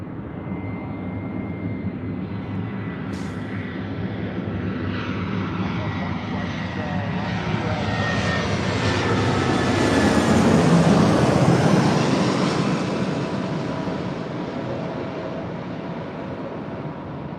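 A fixed-wing airliner takes off at Los Angeles International Airport, its engine roar swelling steadily from a distant rumble to a loud peak mid-clip and then slowly fading, with a faint murmur beneath.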